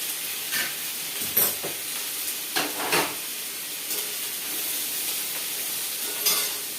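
Snake gourd and lentils fry in a pan with a steady sizzle and hiss, and several sharper scrapes and stirring bursts stand out now and then. No voices are heard.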